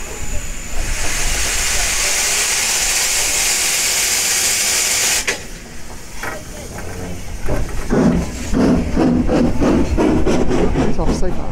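A loud, steady steam hiss from a steam locomotive fills the first half, then cuts off abruptly, followed by clanking and knocking of railway machinery as it detaches from the train.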